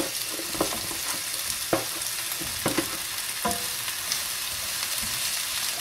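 Eggplant sizzles and fries in a pan with garlic and onion, a steady loud crackle broken by sharp stirring scrapes and clanks of the utensil against the pan.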